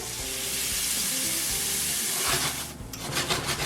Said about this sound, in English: To the olive oil, I'm going to add some onion.